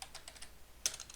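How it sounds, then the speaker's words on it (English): Computer keyboard typing while entering a button label, a handful of light, quick keystrokes spaced irregularly with a sharper tap near the end, close and fairly quiet. "I'm going to type in skip."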